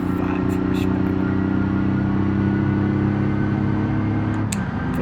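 A small, roughly 45-horsepower tin-can car in the BeamNG driving game, its engine droning steadily and loudly close up as a constant hum that dips near the end.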